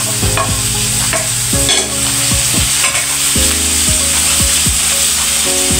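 Bitter gourd being stirred and sautéed with tomatoes in a pan: continuous loud sizzling and frying with rhythmic scraping strokes of a spatula against the pan throughout.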